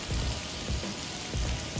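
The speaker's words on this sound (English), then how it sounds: "Today we have rain." Rain falling outside an aircraft hangar, a constant soft patter of drops with a few slightly louder surges and no speech.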